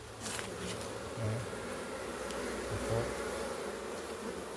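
A swarm of karinodiyan honeybees at their hive makes a dense, continuous buzz, close and steady, with a few louder swells as individual bees pass near.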